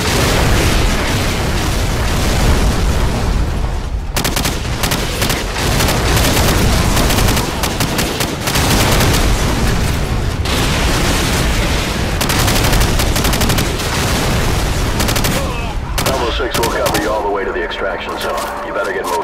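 Call of Duty 4 game audio with heavy artillery fire: repeated booming explosions and gunfire bursts roll continuously and loudly, with short dips between volleys and a quieter tail near the end.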